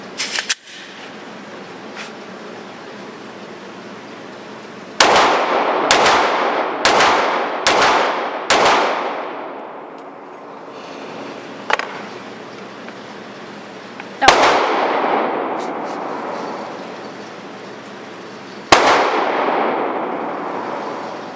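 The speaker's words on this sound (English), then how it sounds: "So with these next few rounds, I'm going to be considering and evaluating the pistol on those points." An HK VP9 pistol fires at a shooting range. Sharp, loud single shots come in an irregular string, some in quick pairs, each leaving a short echoing tail before the next.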